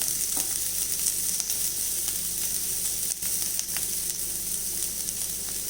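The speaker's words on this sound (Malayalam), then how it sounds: "ഒന്ന് ഇളക്കി കൊടുക്കാം. ക്യാബേജും കൂടെ ഒന്ന് വാടി വരട്ടെ." Shredded cabbage being sautéed and stirred in a pan for a poha upma breakfast, a constant bright sizzle with a few faint scrapes of the spoon throughout.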